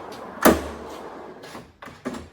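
A slide-out unit in a camper van being pulled out, heard as one sharp, loud knock followed by a low rumbling slide and a few fainter thumps and clacks close by.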